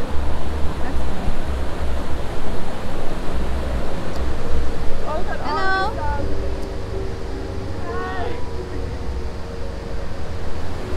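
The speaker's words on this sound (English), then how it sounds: "The water is very loud, so you guys probably can hardly hear me." Loud, steady roar of ocean surf at a rocky Jamaican shore in Kingston, filling the whole scene, with a couple of brief voice-like sounds rising faintly above the wash.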